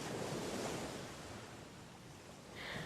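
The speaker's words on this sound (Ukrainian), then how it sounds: "Можна відпочити біля самої води і послухати пісню моря." Soft, distant sea waves wash in a continuous hiss, swelling slightly near the end, with no voices.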